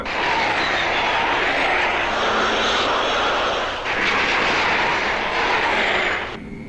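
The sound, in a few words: airplane flying overhead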